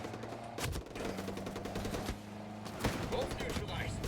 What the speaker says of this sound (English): Returning fire.